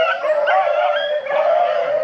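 A rabbit-hunting beagle bays outdoors while trailing a rabbit, giving one long, loud, drawn-out howl that breaks briefly and then carries on, heard alone and fairly close.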